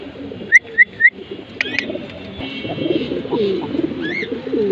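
Racing pigeons cooing in low, rumbling rolls close by, with three sharp whistle-like chirps early on and a few other bird calls over the cooing.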